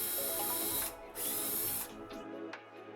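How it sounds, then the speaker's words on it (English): A power drill with a 5mm bit whirs at high speed through a wooden PAX wardrobe frame in two bursts with a brief pause between, then winds down, close and fairly loud. "You're going to use a 5mm drill bit to drill through the frames"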